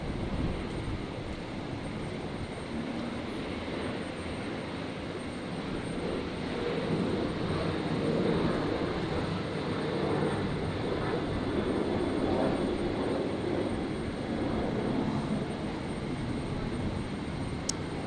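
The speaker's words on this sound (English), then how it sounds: "there goes Qantas 135 off to Christchurch" A Qantas jet airliner takes off from Brisbane airport on a stormy night, its broad engine roar building and holding loud for many seconds, with no voices over it.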